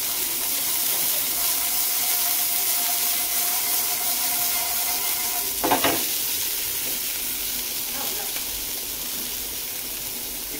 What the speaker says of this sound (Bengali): এর মধ্যে নামমাত্র জাস্ট একটুখানি তেল দিয়েছি, আর একটুখানি ছোলা সেদ্ধ ছিল, ওটাকে একটু করে নেবো